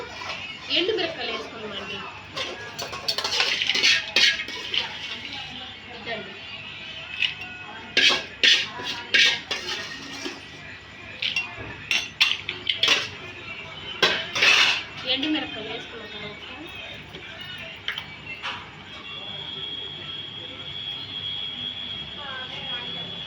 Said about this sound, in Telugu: ఉప్పు ఎండుమిరపకాయలతో చేర్చి దంచుకోవాలండి